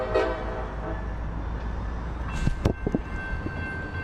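A freight train with an empty coil car rolls along the Tampa S-Line to couple with the rest of its cars, a steady rumble with a few sharp metallic squeals and clanks near the end.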